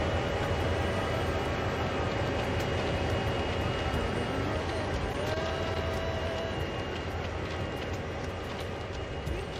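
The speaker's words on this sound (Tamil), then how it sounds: "ட்ரெயின் போகுது." A train in a train-driving setting rolls along the track in a steady, dense rumble with rattling and clatter, loud and unbroken throughout.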